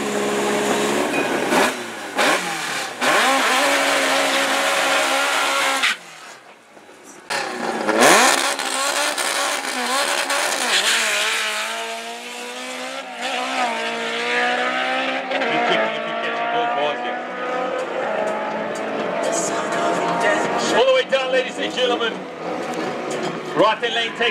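Drag racing cars launching and accelerating down the strip at Midvaal, including a normally aspirated Opel Super Boss with no turbo, loud roaring engines rising through gear changes, with a brief gap before another pass and a commentator talking over them.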